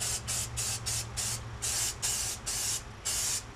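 Spray paint goes onto a new trunk floor pan on a 1969 Plymouth Valiant in a quick series of about eight short aerosol bursts, each a close, sharp hiss with brief gaps between.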